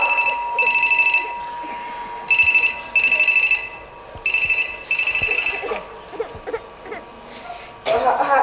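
An old-style telephone bell rings loudly in three paired bursts during a Marathi stage play, then stops, leaving faint background noise.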